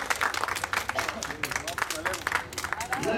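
An audience at a national competition's awards ceremony claps for a placed competitor, a dense patter of hands running throughout, moderately loud and mixed with an announcer's voice.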